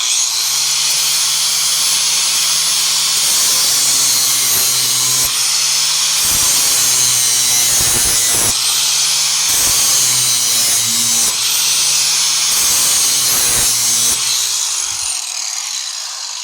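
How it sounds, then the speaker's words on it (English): A grinder sharpens the blade from a John Deere X495 mower deck, giving a loud, steady whine of metal grinding for about fifteen seconds, with brief dips and surges as the tool moves along the edge. "then I can find my angle and I can get in there and grind"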